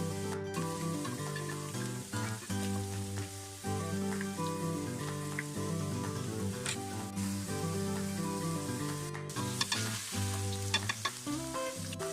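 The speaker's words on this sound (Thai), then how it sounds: "มันร้อนแล้วเอาลงทอดเลยค่ะ" Neem leaves deep-frying in hot oil give a loud, steady sizzle and crackle that runs unbroken from start to finish, with no talking.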